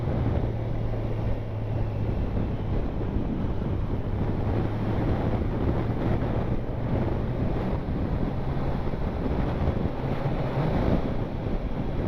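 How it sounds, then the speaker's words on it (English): Strong, cold wind buffets the microphone in a continuous loud roar while riding a Kawasaki Z1000SX motorcycle, with a low engine-like hum underneath and no voices. "it is very, very windy and very, very cold"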